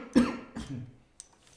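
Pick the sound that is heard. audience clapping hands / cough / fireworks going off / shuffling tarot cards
cough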